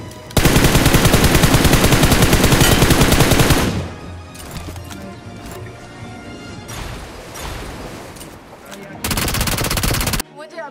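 Heavy automatic gunfire coming from a hill during a squad firefight in a shooter video game: a long, loud, sustained burst, a quieter stretch of scattered shots, then another loud burst near the end.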